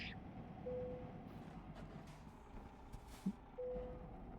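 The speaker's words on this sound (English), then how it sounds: "So this is where I am going to park my truck." A heavy truck's reversing beeper sounds in two steady tones, separated by a pause, over a constant engine rumble, with a short thump near the end, in the video game Euro Truck Simulator 2.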